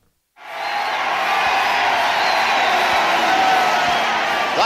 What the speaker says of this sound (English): That cheer was for the Royal Air Force Lancaster with lights full ablaze as it swept over